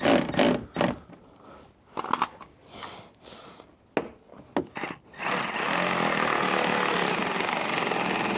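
A power tool drives screws into a BMW F36 rear diffuser, several short bursts and clicks at first, then a long continuous whirring run for the last few seconds.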